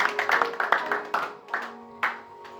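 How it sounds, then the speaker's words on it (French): A church congregation at a Sunday service claps in a brief burst of applause praising the Lord, the claps thinning out to a few scattered ones near the end. "Acclamons très fort pour les seigneurs."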